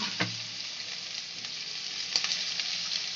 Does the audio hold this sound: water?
no